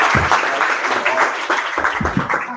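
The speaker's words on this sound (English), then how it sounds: "Round of applause." Audience applause at an IETF CELLAR working group meeting, a short steady burst of many hands clapping together at close range.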